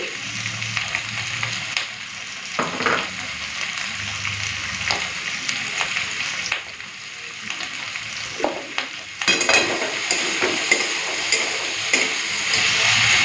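Potato and spring onion frying in oil with salt and turmeric added, stirred in a pan; close crackling sizzle with intermittent scraping strokes, growing louder and fuller partway through, no talking.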